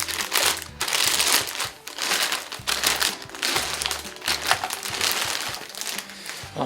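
A Logitech G27 racing wheel shifter being pulled from its plastic bag, with repeated close, loud crinkling and rustling of the plastic in bursts over several seconds, no talking.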